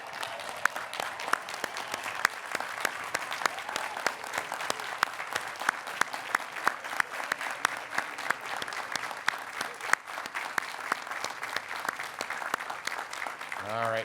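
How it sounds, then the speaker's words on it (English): A large outdoor audience on a university quad applauds graduates at a commencement ceremony, with dense, steady clapping lasting throughout at an even level and a few louder individual claps standing out near the front. "turn to our graduates right here in the middle of the quad and give them a huge round of applause for all that they've achieved"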